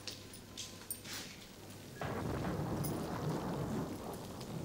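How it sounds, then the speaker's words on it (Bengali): Steady rain falls on a rainy day, a soft hiss at first that swells abruptly into a denser, louder downpour halfway through, with no voices. "বৃষ্টি হচ্ছে"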